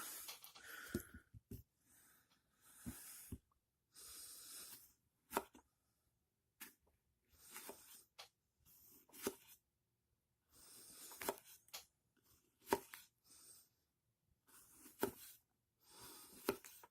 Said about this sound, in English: I don't have an apple handy to do a cut test, so we can show you with a banana